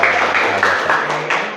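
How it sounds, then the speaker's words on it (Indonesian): A group in a class or practice session breaks into short, close applause, dense and even throughout, with some voices mixed in. "Oke, tepuk tangan untuk kita semua."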